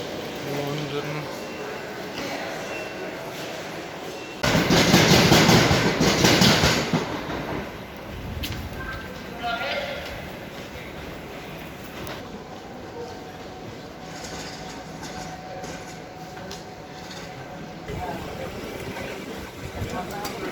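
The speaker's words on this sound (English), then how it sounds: "this train here is going to London King's Cross" A train bound for London King's Cross stands at Cambridge station, giving a steady rumble with a loud burst of hiss or rushing noise partway through, while people talk nearby.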